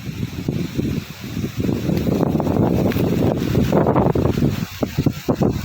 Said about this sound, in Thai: ลมมีลม